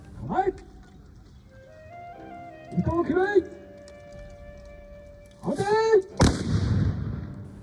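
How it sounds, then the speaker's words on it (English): Japanese matchlock guns at Matsumoto Castle fire in a demonstration: shouted commands ring out several times over a quiet background, followed by a single loud, sharp gunshot blast that trails off. "they're going to load their match and open fire"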